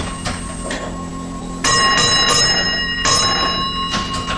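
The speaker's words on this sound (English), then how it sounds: "There are a list of official bell codes, but there are also a number of unofficial bell codes" A railway key token instrument bell on a single line rings in short coded bursts, a bright metallic tone sounding twice with pauses, close and clear over a low background hum.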